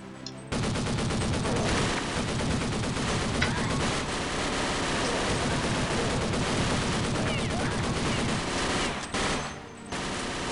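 Automatic gunfire in the shooter Counter Strike Nexon rattles in long, loud, rapid bursts, nearly continuous apart from a brief gap toward the end.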